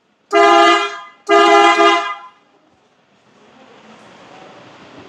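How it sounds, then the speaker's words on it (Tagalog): Two loud PIAA car horn honks in quick succession, each about a second long, followed by a low steady background hum. "And also horn, PIAA."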